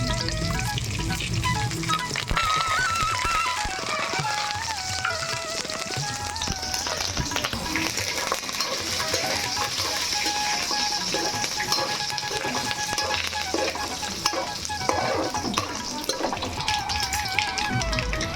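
A pounded garlic and spice mix sizzles in hot oil for a carrot pickle, a dense and continuous crackling hiss at a constant loudness the whole time, with faint stirring underneath.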